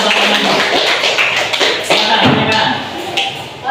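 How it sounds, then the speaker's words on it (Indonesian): A primary-school class claps for a group of pupils, a dense burst of hand claps from many children filling the room, fading slightly toward the end. "beri tepuk tangan kelompok 1"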